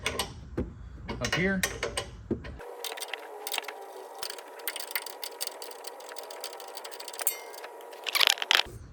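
Nuts being removed from the bottom of a strut on a 2024 Ford F150 with a ratchet, giving a steady run of small mechanical clicking and whirring close by after a short spoken phrase, with a louder burst near the end.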